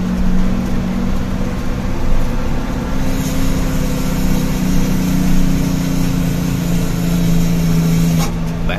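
A heavily laden truck carrying 12.5 tons climbs a steep toll-road incline near Semarang in its lowest gear, engine droning loud and steady at full throttle, close by and continuous throughout.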